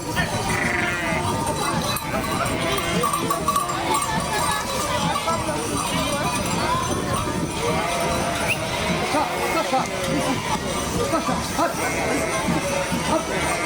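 A sheep flock on a transhumance drive through the streets of Lunel bleats continuously amid a dense, loud crowd din, with horse whinnies and hoof clatter mixed in and people talking throughout.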